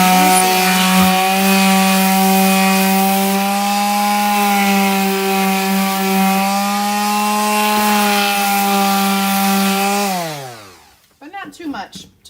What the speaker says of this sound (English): But not too much, just a little sanding.